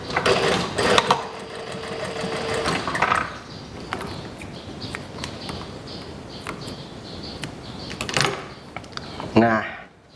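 Sewing machine stitching a pleated sleeve cuff, with rapid mechanical bursts of stitching separated by quieter handling and fabric rustle, a voice speaking in between.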